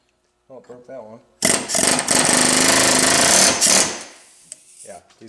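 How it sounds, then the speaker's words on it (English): A pneumatic air hammer with a flat chisel drives U-joint clips out of a cap on a twin-turbo 5.2 Magnum build. It makes a loud, close, continuous rapid chatter for about two and a half seconds. Brief talk comes before it and a quieter knock after. "We use a flat chisel on our air hammer to get those clips out."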